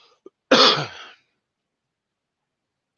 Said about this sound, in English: So the cough is back